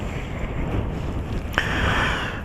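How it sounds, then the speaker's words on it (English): Strong wind gusts roar across the microphone while riding a motorcycle up the A12 on a very windy day, a steady broadband rush with a sharper buffet midway, no talking. "One of the windiest days of the year so far, I think."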